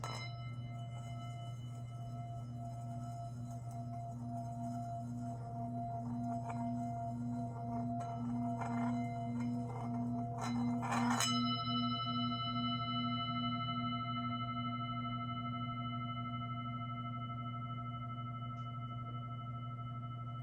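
A singing bowl rings with a warm, sustained tone; a bright clinking strike near the middle adds shimmer before the ring slowly fades.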